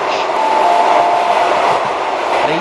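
Train at a station platform giving a steady, loud rumble and rolling wheel noise with a faint tonal whine, continuous throughout with no speech.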